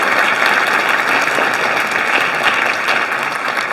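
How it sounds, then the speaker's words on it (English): An audience claps together in sustained, dense applause, close and loud throughout with no voices over it. "Give yourselves a hand."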